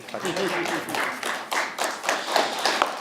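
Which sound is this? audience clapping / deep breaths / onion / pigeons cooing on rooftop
audience clapping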